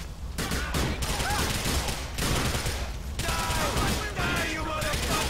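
Dense gunfire rattles nonstop through a shootout in the video game GTA IV The Lost and Damned, loud, close bursts overlapping into a continuous barrage with brief dips.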